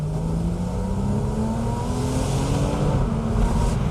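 A 2011 Porsche Boxster S engine in sport mode revs hard and loud, pitch climbing steadily through the gears with a quick shift near the end, continuous and close.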